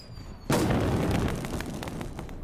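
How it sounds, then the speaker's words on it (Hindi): A sudden loud blast of gunfire and explosion in the PUBG Mobile battle-royale game, a sharp boom followed by a crackling, rumbling tail of shots lasting a couple of seconds, heard without speech. "अभी से भाई पटाखे चल रहे हैं"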